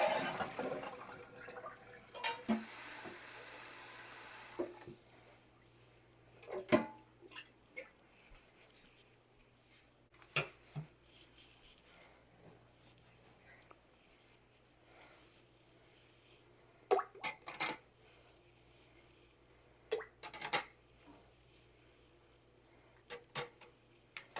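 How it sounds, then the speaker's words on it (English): Hot water is poured out of a canner pot and the pot is refilled with cold water while canning southern chicken stew. A faint, soft rush of water runs for about four seconds, followed by scattered metallic clanks. "So we're going to pour this water out, and I'm going to fill it back up with cold water."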